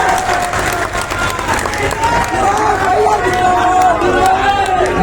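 A large crowd at a political nomination rally in Hajipur applauds and cheers in a loud, sustained wash of clapping and shouting, with voices and chanting mixed through it.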